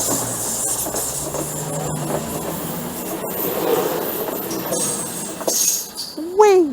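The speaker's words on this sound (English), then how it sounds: "And it's the first train of the day." A train rumbles past nearby at the seaside with rhythmic clicks and a rising wheel squeal near the end, while people talk over the noise.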